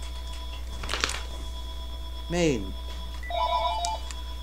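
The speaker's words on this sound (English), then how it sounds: "Somebody's calling me." A telephone rings briefly with a short electronic trill and a later warbling tone, heard under a person speaking nearby.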